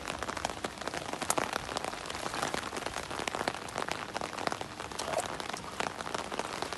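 Heavy rain in Hong Kong patters densely and continuously on surfaces nearby, a steady hiss of countless drops with no voices.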